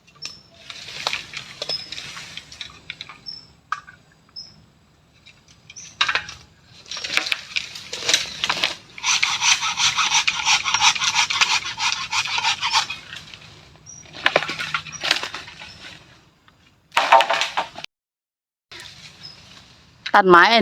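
A farmer cuts wood with a knife in a forest, with repeated scraping and chopping strikes coming in uneven bursts alongside talking.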